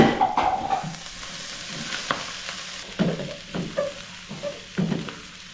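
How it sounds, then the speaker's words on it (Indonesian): Spice paste mixed with chili powder sautéing in a pan, a low frying sizzle punctuated by repeated spatula scrapes and stirring clatter, close by with no talking. "ini kita tumis sampai wangi"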